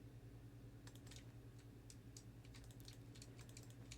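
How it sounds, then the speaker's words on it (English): Clicky typing on a stock computer keyboard that came bundled with a PC, bursts of sharp key taps scattered irregularly over a steady low background hum, close and moderately quiet. "sorry if my keyboard is like kind of annoying. I should probably get like a quieter keyboard"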